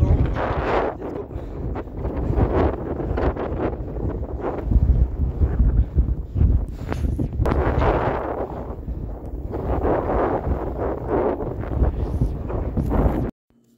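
Strong winter storm wind of about 70 km/h roars and buffets against the microphone in continuous heavy gusts, a dense rushing noise that cuts off abruptly at the end.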